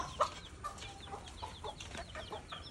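Brahma chickens on a farm clucking softly in short, scattered calls, moderately close, with no talk over them.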